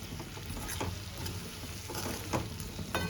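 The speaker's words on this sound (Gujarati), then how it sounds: "હવે આપણે સરસ રીતે મિક્સ કરી લેવાનું છે" Gunda sambharo being stirred in a pan with fenugreek masala and coriander-cumin powder, giving a steady soft sizzle with scraping stir strokes near and close, no talk.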